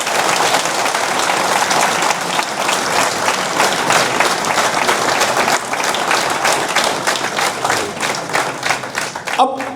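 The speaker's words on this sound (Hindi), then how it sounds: "तो पाकिस्तानियों के लिए हम सबको ताली बजानी चाहिए।" An audience at a stage event in Pakistan bursts into loud, sustained applause, dense clapping filling nearly ten seconds with some voices mixed in.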